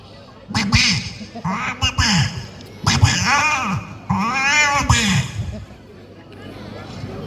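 A mimicry artist imitates a duck, voicing a series of loud, close, nasal quacks in rhythmic bursts before trailing off into quiet.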